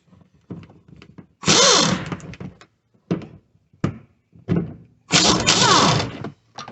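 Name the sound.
impact wrench with 14 mm socket on Toyota Highlander strut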